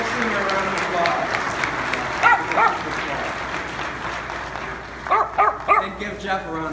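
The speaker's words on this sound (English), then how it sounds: "Give Sooner a round of applause." Church congregation applauds during an Easter homily, steady clapping under which a dog named Sooner barks in short pairs of yips, with a voice speaking.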